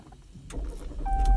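A 2019 Jeep Cherokee Latitude Plus FWD starting by push button, a brief cranking whir that swells into a low engine rumble with a chime tone near the end, close and fairly quiet.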